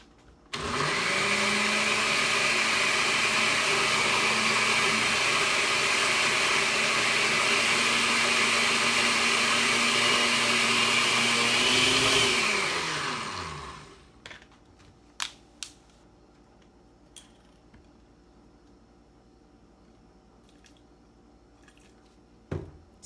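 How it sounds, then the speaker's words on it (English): A blender whirs loudly and steadily while blending an avocado hair mask, then winds down and stops, leaving a few sharp clicks and taps in near quiet. "And pray for my blender too."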